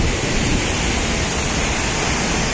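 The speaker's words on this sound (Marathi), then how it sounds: "सगळं खूप मस्त वॉटरफॉल आहे आणि पाण्याचा आवाज खूप आहे त्यामुळे जास्त बोलता येत नाही" Aadoshi waterfall near Khopoli roars as a loud, constant wash of rushing water, close and unbroken, with no other sound coming through.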